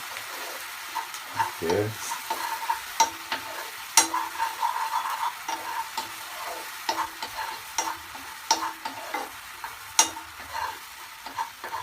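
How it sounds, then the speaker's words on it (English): Garlic being stirred in a hot frying pan over reduced heat, with steady scraping and sizzling that comes through close and clear across the whole stretch, punctuated by sharper clicks of the utensil against the pan, and a brief spoken word. "So you stir it very well."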